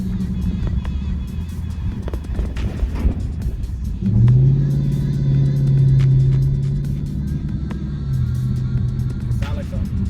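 A 2019 Dodge Charger R/T with an MFER-1 active exhaust idles with a deep, steady rumble that swells into a longer rev midway, with background chatter throughout.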